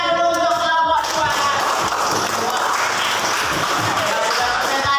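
Audience applause for a student group after their presentation in a classroom coaching session, a steady dense wash of many hands clapping that fills the whole clip, loud and close.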